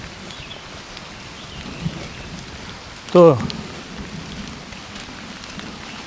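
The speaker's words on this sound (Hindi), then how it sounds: "और आवाज़ अगर आपको आ रही हो बादल के गरजने की" Heavy rain falls steadily in the Abujhmarh forest area, a dense continuous hiss throughout, with a brief spoken word midway; no clear thunder rumble stands out.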